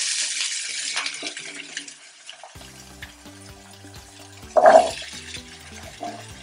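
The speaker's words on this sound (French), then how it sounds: "Il n'y a pas besoin de mettre beaucoup d'eau dans la pomme de terre." Water poured into a pot of washed potatoes while cooking a potato and duck sausage dish, a hissing, running pour that swells briefly near the end over faint kitchen clatter and sizzling.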